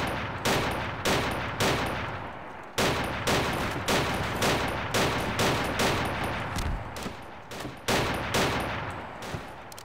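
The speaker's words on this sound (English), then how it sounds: "Let's shoot." Rapid bursts of gunfire from DOD:S weapons, including an M1918A1 automatic rifle, in Garry's Mod, loud and close, with sustained volleys and short pauses between strings of shots.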